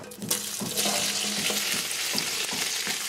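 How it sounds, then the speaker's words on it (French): Cut sausages sizzle and fry in very hot oil in a pot over a wood fire, a steady dense crackle with stirring, close and loud, no voices. "Après avoir fait bouillir les saucisses, il faut les couper et les mettre dans une marmite avec de l'huile bien chaude."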